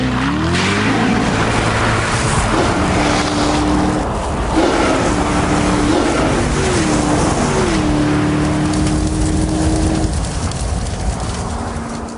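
A Corvette Z06 engine roars loudly and continuously in a quarter-mile drag race, its pitch climbing through several rising gear sweeps and dropping at each shift, with a steady harsh note running nearly unbroken to the end.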